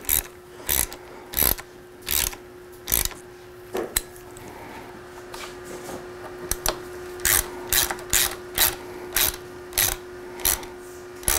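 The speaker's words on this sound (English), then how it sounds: "We'll tighten down the stem clamps." Ratchet tightening the stem clamp bolts on a fat-bike suspension fork, a close series of crisp clicking strokes in short rhythmic groups with brief pauses between, over a steady faint hum.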